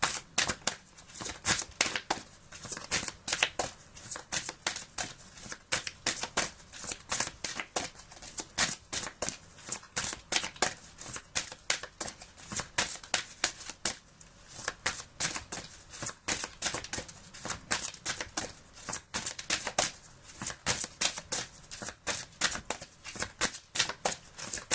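Oracle cards being shuffled and drawn, a steady run of crisp riffling snaps and papery flicks repeating rhythmically, close and clear with no talk over them.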